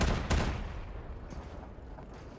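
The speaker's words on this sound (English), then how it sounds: "Another really nice thing about this cannon is that there's no delay when you fire" Cannon fire from the legendary Compiler weapon in a video game: a loud opening blast followed by a rumbling fade, with smaller muffled reports trailing off.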